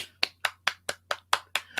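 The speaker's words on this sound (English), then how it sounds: "Round of applause." Eight crisp, evenly spaced hand claps from a single person, close and dry over a faint low hum.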